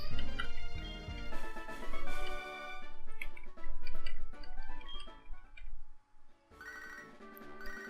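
A phone rings in the Pokémon HeartGold video game, a bright electronic chiming melody that repeats in short bursts with brief pauses between them.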